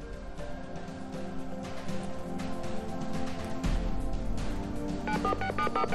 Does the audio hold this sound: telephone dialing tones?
yes